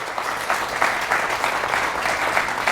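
Steady crowd applause at a church service, dense and sustained clapping from many hands filling the room for the whole stretch.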